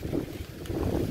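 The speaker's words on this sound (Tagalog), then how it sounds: "Grabe yung hangin. Ang lakas." Typhoon-strength wind roars and buffets against the microphone in a steady rushing gust.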